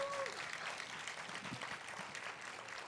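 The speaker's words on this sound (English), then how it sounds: "let's go ahead and give everybody a round of applause that put this on right now as loud as we can" An audience at a rally against hate applauds, with a dense wash of clapping and crowd noise, fairly distant and steady throughout.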